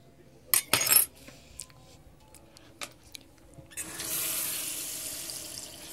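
Water runs steadily from a kitchen tap into a sink during homemade treat preparation, a continuous hiss that starts partway through after a few brief clinks and knocks.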